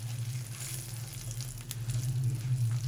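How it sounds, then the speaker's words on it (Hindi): Spices with turmeric and salt frying in a pan for a tomato garlic chutney, making a steady close sizzle and crackle throughout with faint stirring and no talk. "बस 1 मिनट तक हम फ्राई करेंगे मसाले के साथ।"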